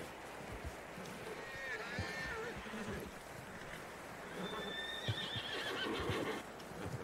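Horses whinny twice, several seconds apart, with hooves and a busy background of game noise underneath, in Red Dead Redemption 2.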